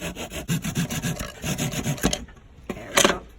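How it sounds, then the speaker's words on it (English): Sanding a wooden paint stick sign by hand, with steady rhythmic rasping strokes up close that pause, then resume with a final loud scrape. "so I'm going to sand it down."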